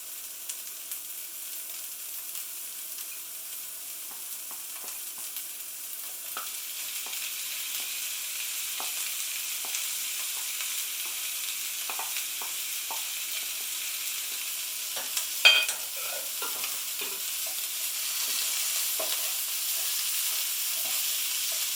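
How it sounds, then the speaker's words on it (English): Sliced carrots stir-fried in a hot pan for a spicy chickpea couscous lunch, a steady close sizzle with scattered crackles and scraping stirs, one sharper clatter midway, no talking. "I'm going to add the carrots."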